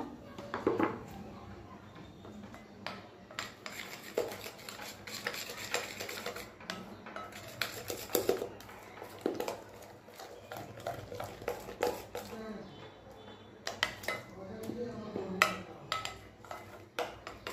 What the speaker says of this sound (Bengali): এখন এই মিশ্রণটাকে একটু ভালো করে মিশিয়ে নিব